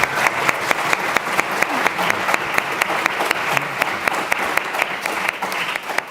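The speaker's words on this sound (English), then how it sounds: "give them a warm hand of applause and big thanks for being here" Warm audience applause for a panel at a university anniversary event on the future of education, loud and sustained, with a few sharper claps standing out at a fairly regular beat above the steady crowd clapping.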